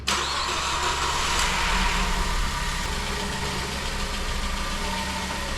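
A wrecked car's engine cranks and fires, then settles into a loud, steady idle close by, with no one talking.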